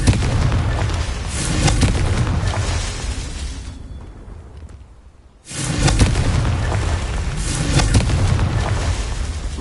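Confringo spell explosions in Hogwarts Legacy, loud rumbling booms that fill the scene, fading briefly to a quieter lull before another heavy blast rolls in and sustains.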